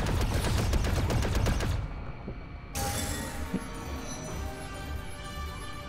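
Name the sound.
blaster shooting in Lego Star Wars: The Skywalker Saga video game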